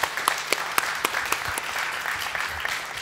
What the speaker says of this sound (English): Round of applause to Pierre.